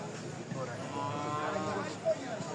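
Cattle at the Fulgazi cow market moo in a drawn-out low call, moderately near, over a murmur of crowd noise and faint voices.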